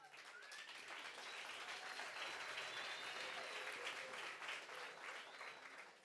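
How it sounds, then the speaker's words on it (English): Sustained applause from an audience at a World Intellectual Property Day celebration, many hands clapping steadily and fairly close for about six seconds, with no voices over it. "I like it that you are clapping your hands"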